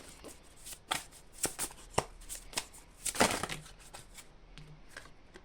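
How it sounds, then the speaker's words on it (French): A deck of tarot cards is shuffled in a quiet room, with a series of quick, crisp riffling and slapping bursts at irregular intervals, fairly soft and close. "J'ai trop de cartes. Je voudrais une seule carte s'il vous plaît."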